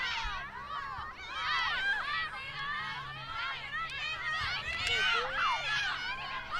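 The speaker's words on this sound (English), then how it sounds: "That cheering you hear is from their sideline, their bench." The Putnam Valley team bench cheers from the sideline at a high school field hockey game at Rye Neck: several high voices shouting and whooping continuously, moderately distant, over a faint background hum.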